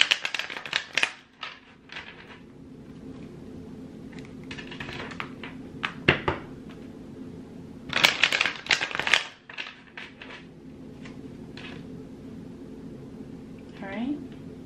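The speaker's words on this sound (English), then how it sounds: "Shuffle one more time." Tarot cards being shuffled by hand, with short bursts of riffling and flicking and some quieter card handling in between, heard close up. A person talks throughout.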